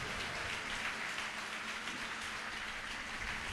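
A church congregation claps loudly in praise, a dense, steady wash of many hands filling the room without pause throughout.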